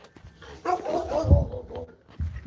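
Dogs are let outside, giving a short whimpering yip and a few soft barks close by, with a moment of quiet between bursts.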